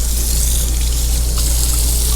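Cold water runs steadily from an RV motorhome tap after the hot water is purged, a continuous near rushing flow with no pauses.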